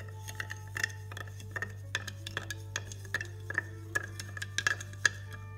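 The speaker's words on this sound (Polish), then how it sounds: "Całość dokładnie mieszamy do rozpuszczenia." A spoon stirs a sauce of cornstarch dissolving in liquid inside a bowl. It makes a run of light, irregular clinks and taps against the side, close and fairly crisp, over a low steady hum. No one speaks.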